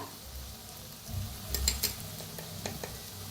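Masala paste roasting in oil in a pan with garam masala, for an eggplant and potato curry: a low, steady sizzle with a few sharp scrapes and stirring knocks near the middle, close and alone.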